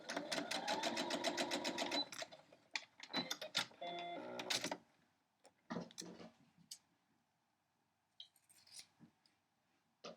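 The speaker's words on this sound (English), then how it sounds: "So I'm going to sew this," A sewing machine stitches a quilt-as-you-go star block in rapid close bursts, running steadily for a few seconds, pausing, then sewing again in shorter runs with a few faint clicks near the end.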